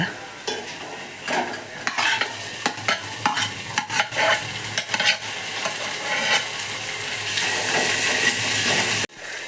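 Onions and tomato frying and being stirred in a pan, with a steady loud sizzle and repeated scraping stir strokes throughout, ending abruptly.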